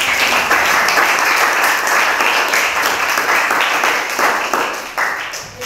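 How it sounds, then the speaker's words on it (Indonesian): A classroom of children applauding, a lively dense burst of clapping that keeps going for several seconds and tapers off near the end. "Kita berikan tepuk tangan yang meriah."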